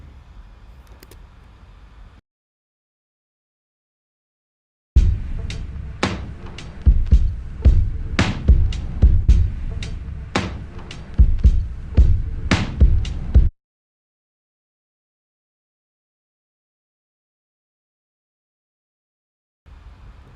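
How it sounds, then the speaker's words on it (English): A pitched-down drum loop plays in a music production session, heavy low thumping kicks and sharp hits in a steady rhythm for about eight seconds, set off by near silence and a faint murmur at either end. "since this is a pitched down drum loop, I'm going to show you the before and after of the compression that I used on it"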